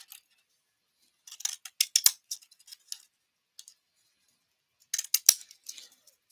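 Scissors cutting paper snip close up in two quick clusters of crisp cuts, with quiet pauses between them.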